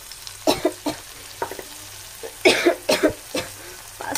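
Pasta tossed with salt, chili powder, turmeric and coriander powder fries in a pan, intermittent scraping and sizzling bursts from stirring over a low background hiss.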